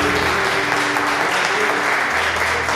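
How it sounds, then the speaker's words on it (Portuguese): A church congregation claps in praise during a worship service, a continuous, dense wash of applause, with a faint sustained tone running underneath. "E as palmas louvam o Senhor nesta hora."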